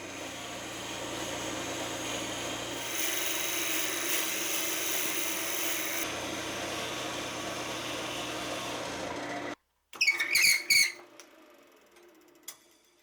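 A drill press bores into the end of a wooden spindle for a twin screw gear-linked vise, a steady loud whir with a shift in pitch midway, then stopping abruptly before a few sharp clicks and knocks.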